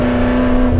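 A Ford GT40 race car engine drones loudly from close inside the cabin, a sustained steady tone over a brief moment with no voices.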